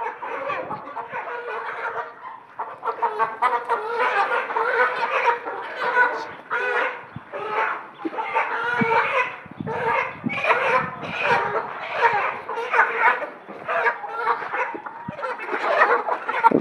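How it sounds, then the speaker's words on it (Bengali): Large chickens of about three kilos cluck and squawk in agitated bursts throughout while being caught for sale, close by, with some voices in the background. "তো আমাদের মুরগিগুলো ধরা হয়ে গেছে, আরো মুরগি ধরতেছে।"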